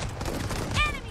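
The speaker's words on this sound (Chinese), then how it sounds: "大仓里有枪声。" Gunfire in a first-person shooter game match with shotguns, a dense burst of shots rising briefly to a louder crack near the end, with ringing tones and faint background talk.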